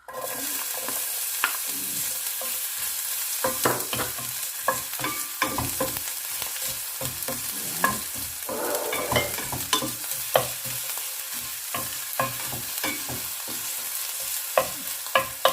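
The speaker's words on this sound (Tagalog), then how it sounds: "magigisa lang po ako ng bawang at onions" Garlic and onions sautéing in a hot pan for palabok sauce, a continuous close sizzle broken by repeated scraping and stirring clicks of a utensil against the pan, with no talking.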